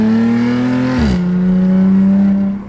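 Car accelerating hard, a loud droning engine tone that climbs, breaks at a gear shift with a short burst, then holds a steady strong pull before easing off.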